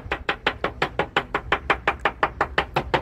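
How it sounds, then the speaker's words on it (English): Rapid, steady chopping of conch at a conch stand, a knife striking a board about five times per second, close and fairly loud with no talk. "You can hear him chopping in the background there."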